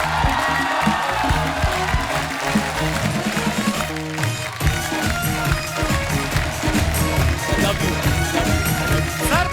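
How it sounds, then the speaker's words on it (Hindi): Studio audience on a Hindi comedy talk show applauds and cheers as a veteran comedy actor walks on, a dense, sustained wash of clapping and crowd noise with music running underneath throughout. "आप सबकी जोरदार तालियों के बीच please welcome mister Tiku Talsania साहब"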